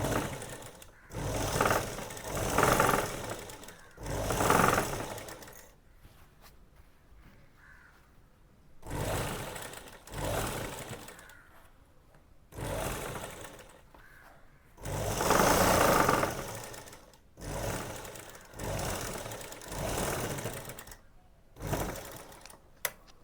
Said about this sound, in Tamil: இப்போ அதே திருப்பி டபுள் தையல் போட்டுக்கோங்க